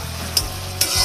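Ginger, garlic and cumin paste frying in a pan for chicken liver curry, with two quick scrapes of a stirring spoon over a steady low sizzle, close and fairly loud.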